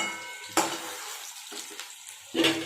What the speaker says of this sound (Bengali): এদিকে পেঁয়াজটাও ভাজা হচ্ছে